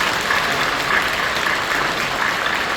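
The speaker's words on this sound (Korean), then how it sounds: "여러분 뜨겁게 박수로 환영해 주시기" Church congregation applauding to welcome newcomers at a Sunday service, a dense, loud, steady burst of clapping from many hands close by for a few seconds.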